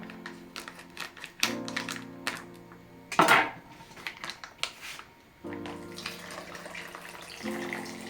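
Milk is poured into batter for chicken-filled crepes in a home kitchen, giving soft splashing and liquid trickles mixed with scattered clinks and taps of utensils and bowls.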